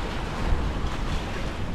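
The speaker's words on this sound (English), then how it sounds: "These waves are getting pretty chonky." Ocean waves wash and rush around a sailboat on the Mexican Pacific coast between Carrizales and Barra de Potosí, a steady, loud surge mixed with heavy wind buffeting the microphone.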